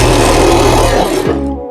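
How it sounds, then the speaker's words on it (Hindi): A sewing machine running close and loud as it stay-stitches the lining of a deep-neck blouse, a steady motor whirr that slows and winds down near the end. "यहाँ पे हमें तार स्टिच लगा देनी है"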